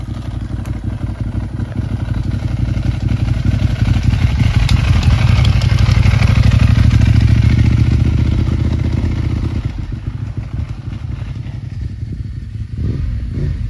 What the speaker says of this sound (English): the bike's moving. That's the first time it's driven under its own power since we've had it.